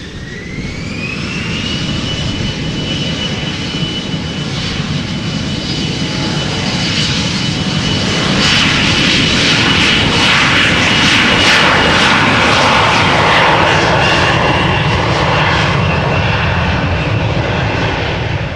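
A jet airliner departing Amsterdam Schiphol for Dublin spools up with a rising whine over a deep rumble, growing steadily louder into a full close roar that sustains to the end, with no voices.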